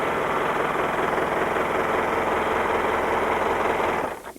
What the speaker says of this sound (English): this is an overlocker